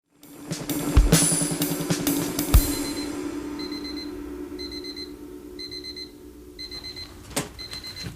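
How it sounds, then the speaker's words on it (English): Alarm-clock-like beeping at the end of a song: repeated short electronic beeps in an even rhythm over the fading music, with a few sharp clicks early on. "That's exactly the sound of my partner's alarm clock."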